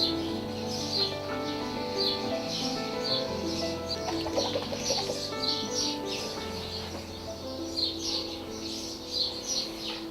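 An injured bird with blood in its trachea after hitting a vehicle or window coos softly while being handled at a wildlife rescue centre, steady low calls running throughout with scattered higher chirps and fluttering, no speech.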